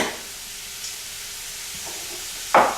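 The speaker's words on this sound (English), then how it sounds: "you can actually start layering it right up in your gumbo pot. I'll layer in my onion" Onion dropped into a hot gumbo pot: a soft hiss and faint rustle build to a sudden loud sizzle near the end, with no talking.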